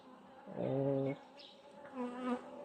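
Buckfast honey bees hum around a hive in early spring, a close, steady droning buzz that swells and fades as individual bees pass near.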